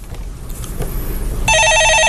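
A telephone rings with an incoming call in a Korean stock-market call-in show studio. The bright electronic ring starts abruptly over low room noise and repeats in quick pulses.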